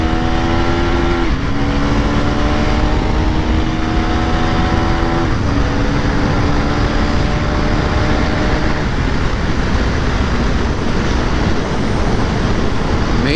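A 2024 KTM Duke 390 motorcycle engine runs loud and close, its pitch climbing in short revving pulls over a constant roar of engine and wind noise, with no talking.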